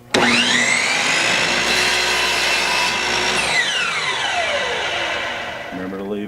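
A power saw cuts through wood trim for a frame: the motor whines up loudly, holds a steady, harmonic-rich scream through the cut for about three seconds, then spins down with a falling pitch.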